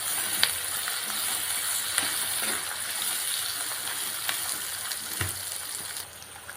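Ivy gourd and potato fry in a pan as they are stirred, giving a steady hiss with scattered clicks and scrapes from the stirring.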